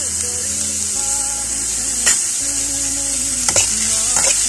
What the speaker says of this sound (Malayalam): അപ്പം ഇതെല്ലാം കൂടെ നമുക്കൊന്ന് വഴറ്റിയെടുക്കാം